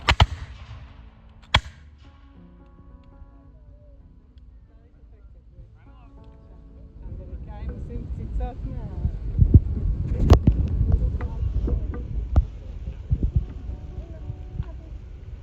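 Musket volleys at a Revolutionary War reenactment during a Nevada City Constitution Day event: a few sharp isolated cracks early, then a busier stretch with a loud burst of shots over murmuring voices and crowd noise.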